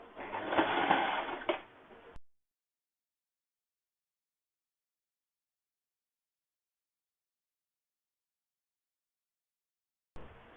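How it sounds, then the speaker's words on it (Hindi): Sewing machine stitching a folded edge on a cloth mask, a short faint run of about two seconds, then silence with a brief restart at the end. "यहीं से फिर दूसरे साइड के पीस को इस तरीके से फोल्ड करते हुए हम किनारे तक स्टिच कर लेते हैं"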